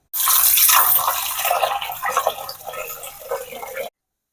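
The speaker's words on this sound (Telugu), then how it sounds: "ఈ చికెన్ని శుభ్రంగా కడిగి తీసుకుందాం" Raw chicken is washed under running water, a close splashing and gushing rush that gradually softens into uneven sloshing and trickling before cutting off.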